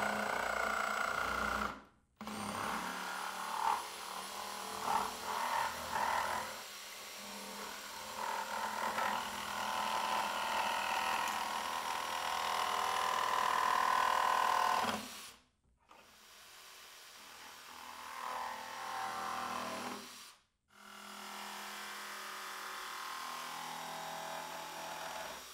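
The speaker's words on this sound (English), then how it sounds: "Then I'll come back with the jigsaw and cut along the layout lines." A jigsaw cuts a plastic five-gallon bucket along marked layout lines, a steady buzzing rasp in three long runs broken by brief pauses, close and fairly loud with no talking.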